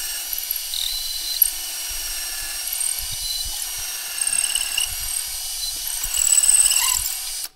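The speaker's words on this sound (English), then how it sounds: "This is a very fancy drill press." A drill press runs with a steady high mechanical whine while drilling wood for a platter, with low knocks and bumps from the workpiece and a louder push near the end.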